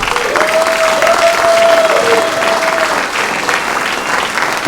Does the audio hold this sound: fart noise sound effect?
no